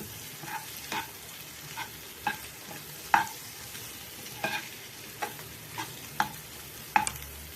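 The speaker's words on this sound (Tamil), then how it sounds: "எல்லா மசாலாவும் ஒன்றா சேர்த்து மிக்ஸ் பண்ணிக்கலாம்" Masala mix being stirred in a frying pan for egg Maggi: a steady low sizzle broken by repeated scraping clinks of a spoon against the pan, roughly once a second, close and fairly quiet.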